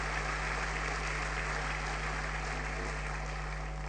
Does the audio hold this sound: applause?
yes